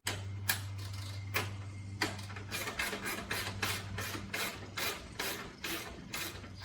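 Ratchet wrench loosening the rear muffler bolt on a 1974 Kawasaki Z1 900 motorcycle, close clicking strokes in uneven bursts with brief pauses between swings.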